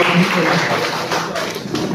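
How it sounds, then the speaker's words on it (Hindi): An audience in a hall claps in steady, loud applause that fills the space and sounds close, with voices mixed in under the clapping. "आपसे गुजारिश करता हूँ कि तालियां बजाकर आप हिमायत करें"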